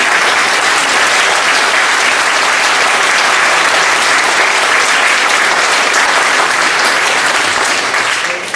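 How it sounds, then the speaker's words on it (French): An audience at a Christmas evening gathering in Berck applauds a 93-year-old woman named Marie-Jeanne, producing loud, dense, continuous clapping that holds steady throughout and eases slightly at the very end. "Je voudrais vous demander, d'applaudir Marie-Jeanne, qui a 93 ans"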